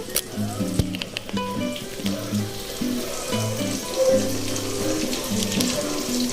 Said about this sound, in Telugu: వేగాయి చూసారా